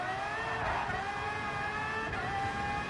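Racing cars roar past in a racing video game during an overtaking move, a loud, steady engine drone with shifting pitch that holds throughout with no gaps.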